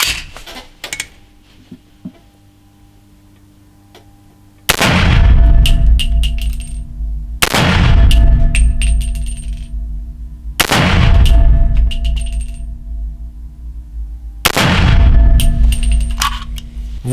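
An STG 15 AR-15 rifle chambered in 300 Blackout with a short 10-inch barrel fires four loud, sharp shots at roughly three-second intervals, each followed by a booming decay, after some quiet handling clicks at the start.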